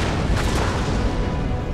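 Cannon fire booms across a Napoleonic battlefield at Waterloo in Napoleon Total War, loud, overlapping blasts and rumbling explosions that merge into a dense, continuous roar of artillery.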